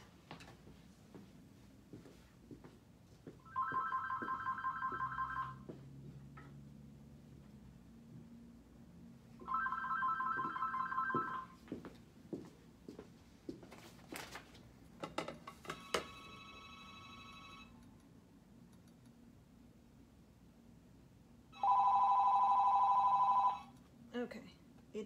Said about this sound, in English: make sure that that phone is not somebody from the workshop